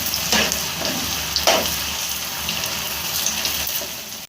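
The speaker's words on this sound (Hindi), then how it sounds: "इसे आपने 5 से 6 मिनट तक फ्राई करना है।" Potato strips for homemade French fries frying in hot oil, giving a steady, close hiss and bubbling sizzle with a few brief louder crackles and no talking.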